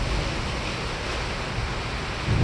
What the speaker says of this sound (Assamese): ইয়াকে কয় ধুমুহা